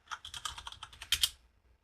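Quick, close typing on a computer keyboard: about a dozen light key clicks in an uneven burst, ending with a couple of sharper taps before falling quiet.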